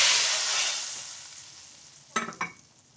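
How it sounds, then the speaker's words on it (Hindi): A tadka of hot spiced fat poured into a pot of moong dal cooked with leftover chicken gives a loud, close sizzle that fades steadily, followed by a few sharp stirring clinks and scrapes near the end. "बकाया तड़का हम अपनी हांडी के बीच में।"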